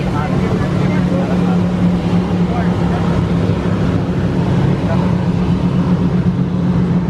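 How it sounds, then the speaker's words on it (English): A steady, loud engine drone with broadband wash of a fast motorboat running nearby on Lake Erie near Buffalo Harbor, continuous throughout with some wind noise. "Yeah, that's a fast boat right there."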